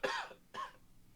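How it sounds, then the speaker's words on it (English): A person coughs twice in the back of a quiet meeting room, a sharp harsh burst followed by a second, shorter cough half a second later, fairly faint and with no talking. "Somebody coughs in the back."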